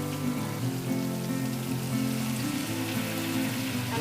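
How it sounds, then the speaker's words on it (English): Water splashes into a hot pan of stuffed brinjals (bharwa baingan) and sizzles, a steady crackling hiss close by that carries on throughout. "I'll give a splash of water again."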